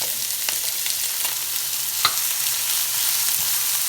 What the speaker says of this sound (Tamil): அதுக்குள்ள கொஞ்சம் வெட்டின வெங்காயத்தை தான் நான் இப்போ ஆட் பண்ண போகிறேன்